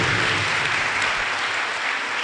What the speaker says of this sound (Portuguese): Palmas para Jesus. Mais forte, igreja.